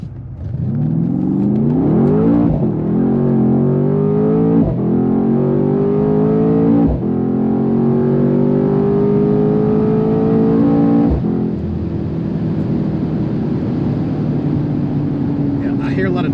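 A Mercedes-AMG C63 Cabriolet engine accelerates hard through several gears, the pitch climbing then dropping at each shift, loud and close, before easing into a steady cruise.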